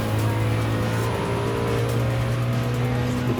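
A Nissan R92CP race car accelerates hard at Le Mans in Gran Turismo 7, its engine a loud, steady, close drone with a low rising tone held throughout, a rival Mazda nearby on track.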